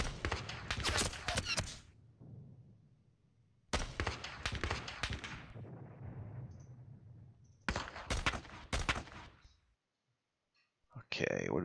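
Three loud bursts of gunfire sound effects, each lasting about two seconds, from the WWII wargame Panzer Campaigns Bulge 44 set around St. Vith. Rattling shots are followed by fading rumble, with a short sharp crack at the end.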